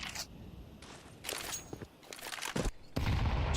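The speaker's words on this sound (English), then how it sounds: "Tossing in a couple of nades there" Muffled explosive bursts and scattered gunfire in a Counter-Strike professional match, with grenades going off in separate loud blasts between quieter stretches.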